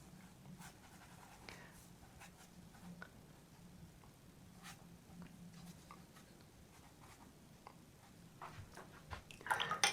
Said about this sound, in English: Keep the brush on the paper for as long as you can.